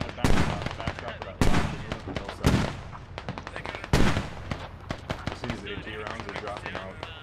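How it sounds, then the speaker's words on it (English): High-explosive rounds landing close by in the Squad military shooter game, a handful of heavy booming impacts spaced a second or so apart, with lighter crackling gunfire between them and voices now and then. "Yeah, the rounds are landing pretty close, but they're not doing any damage here."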